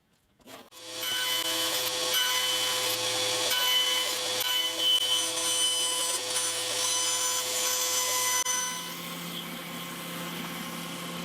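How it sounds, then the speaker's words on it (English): A knife cuts through thin wood veneer during a vintage steel-string guitar makeover, giving a steady rasping, sawing-like scrape for about eight seconds that then drops to a quieter hum. "so I'll cut that out with a knife"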